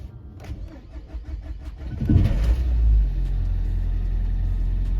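A Nissan car with a new battery and fresh fuel cranks and fires up, its engine catching at about two seconds and settling into a steady, close idle rumble.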